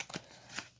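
Autographed trading cards slipped out of a binder, two quick soft papery slides and flicks, close and faint.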